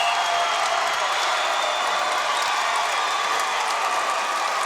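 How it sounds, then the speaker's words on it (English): Fans from both sides at a Class C high school volleyball final applauding a great point, a steady wash of clapping and crowd noise at moderate volume, with no clear voices on top. "fans from both sides are applauding that sequence as it was a great point"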